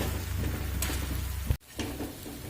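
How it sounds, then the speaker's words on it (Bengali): Banana flower with spices and sugar being sautéed in a pan, a steady close sizzle with stirring scrapes that cuts out abruptly near the middle, then resumes more quietly. "দিয়ে খুব সুন্দর করে কষিয়ে নেব"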